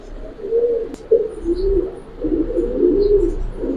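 Low, throaty Giribaz pigeon coos roll on close by, with a short sharp tap near the start and a faint wing flutter.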